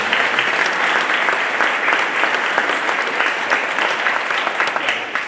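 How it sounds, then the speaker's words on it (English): An audience at Northland gives sustained applause, a dense, even wash of many hands clapping that stays loud and steady throughout without talk. "So let's give them a round of applause."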